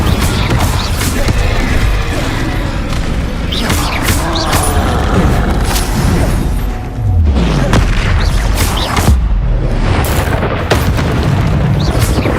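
Confringo explosive spells fired repeatedly in Hogwarts Legacy combat, loud booming blasts and crashing impacts piling up in a dense, continuous barrage with hardly any pause, plus brief voices mixed in.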